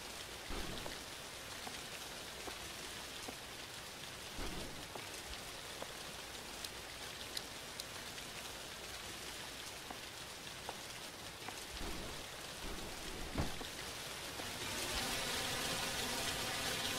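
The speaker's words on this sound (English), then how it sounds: "why is the rain louder in here than outside?" Rain heard from indoors in the video game The Caregiver, a steady dense patter of drops on a surface with occasional sharper taps, growing slightly louder and fuller near the end.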